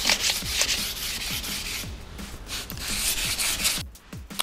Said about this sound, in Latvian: Un to mēs visu redzam un slīpējam, kamēr viss pazūd un paliek vienmērīgi pelēks.